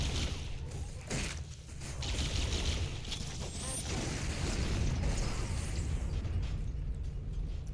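Explosions rumble in a Halo game, heavy booms and bursts piling into a continuous low roar with a brief dip before building again.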